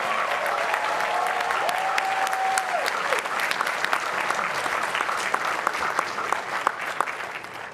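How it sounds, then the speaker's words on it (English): Sustained applause from a large commencement audience honoring the keynote speaker at Carnegie Mellon's graduation, loud and dense throughout, with a brief tonal whistle or sustained note rising early on. "Let's have another round of applause for our keynote speaker, Jensen Huang."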